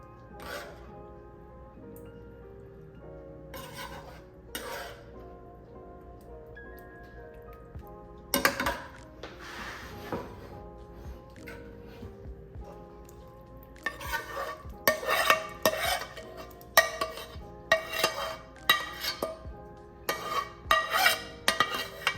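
Sauce being spread over noodles in a baking dish with a utensil, soft wet scraping and stirring sounds that start sparse and turn into busy, clattering strokes later on.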